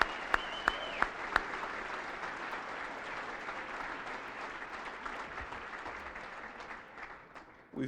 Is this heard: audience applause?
yes